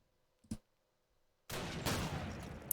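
Machine gun fire in the Call of Duty 2 video game, starting with a single faint shot and then, after a quiet gap, a sustained loud burst that runs to the end.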